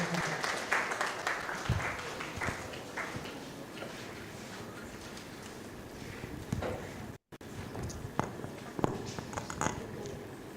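Audience applause for a speaker at a public lecture marking a news outlet's anniversary, an uneven spread of claps at moderate volume with a brief dropout midway and sharper individual claps toward the end.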